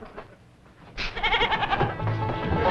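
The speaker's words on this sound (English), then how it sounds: "The old goat, sir." An old goat bleats loudly and repeatedly in a wavering run that starts about a second in, following a quieter opening of indistinct background sound.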